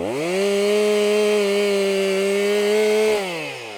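Chainsaw engine revving loud and steady at high pitch while cutting shagbark hickory firewood, then dropping in pitch as the throttle eases near the end, no talk.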